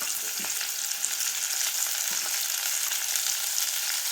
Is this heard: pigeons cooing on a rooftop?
no